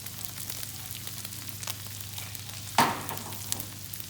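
Onions and carrots fry on a flat top grill with a soft, steady crackling sizzle throughout, broken near the end by one sharp metallic scrape or tap, close and without talk.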